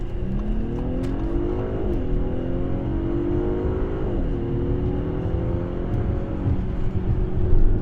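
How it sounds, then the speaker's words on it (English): An Audi SQ5 crossover accelerates hard, its engine note climbing steadily through the gears with brief fuel-cut dips at each shift, loud and close from inside the cabin. "And it makes those cool fuel cut shifts."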